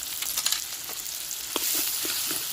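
Spice paste of turmeric, chilli powder, coriander, cumin and ginger-garlic being sautéed in a pan with a splash of water, giving a steady close sizzle with a few soft stirring scrapes and no talk.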